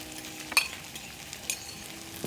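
Breakfast potatoes frying softly in a pan, a low steady sizzle with a couple of brief clinks of a utensil, no talking.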